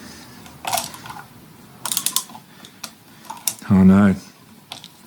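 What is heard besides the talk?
brass screw being driven in until its head shears off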